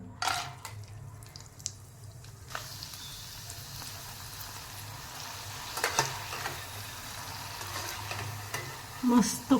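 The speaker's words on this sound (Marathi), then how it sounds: "आता आपल्याला हे तळून बघायचे आहेत तेल चांगलं गरम केलेलं आहे" Poha kurkure frying in well-heated oil, with a steady soft sizzle and bubbling crackle that continues throughout, broken by a few stirring clinks and scrapes, close and moderately quiet with no talking.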